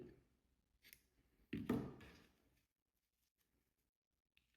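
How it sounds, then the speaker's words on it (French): Scissors snip crochet yarn on a small lily-of-the-valley keychain piece, heard as a couple of faint close clicks and one firmer snip against near silence. "Je vais venir couper mon fil."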